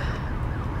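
Loud, dense wash of blended emergency siren sound effects from a fire truck and ambulance, continuous and near with no pauses or speech.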